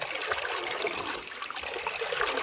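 Steady splashing and trickling water as raw chicken meat is washed by hand for Pallipalayam chicken in a village kitchen, continuous and fairly close with no talk.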